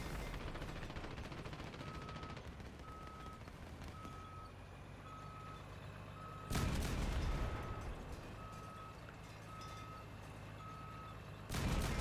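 Reversing beeps from a truck in the Crossout vehicle combat game sound as a steady run of evenly spaced electronic tones over engine rumble, with two loud bursts of gunfire breaking in; no one speaks.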